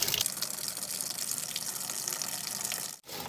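Coolant and water gush steadily out of a car radiator being drained during a cooling-system flush, a loud continuous splashing flow that briefly cuts out near the end.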